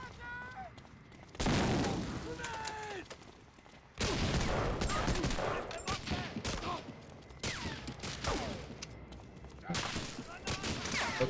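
Machine gun fire in Medal of Honor: Allied Assault, long loud bursts of rapid automatic shots with short gaps between them, plus occasional other gunfire. Someone talks now and then under the shooting.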